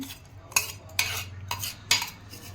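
Ground red chili being mixed with pickle spices in a bowl, a few distinct metal spoon scrapes and clinks spaced about half a second apart, close and fairly quiet with no voices.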